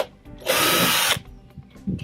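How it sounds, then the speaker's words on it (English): Small drill bit boring a pilot hole through a 3mm metal base, one loud steady whine lasting under a second, close, with faint handling clatter before and after. "I'm going to start with a smaller drill bit to do a pilot hole."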